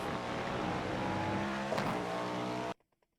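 A Cadillac GTP prototype race car engine at Monza in the iRacing sim drones loud and steady under partial throttle, then cuts off abruptly near the end, leaving a few faint ticks.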